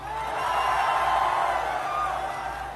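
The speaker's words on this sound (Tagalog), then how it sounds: "sabay-sabay na palakpakan may kasamang hiyawan" Crowd at an Isko Moreno campaign rally at Old Tagbilaran Airport clapping and shouting together on cue, a dense, loud sustained roar of applause and cheers that swells and holds for a few seconds.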